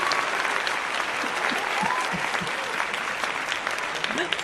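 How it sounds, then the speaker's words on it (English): A crowd claps steadily in sustained, dense applause, with a few voices calling out underneath. "give Power Team CEO Kesha just a hand and a round of applause for her"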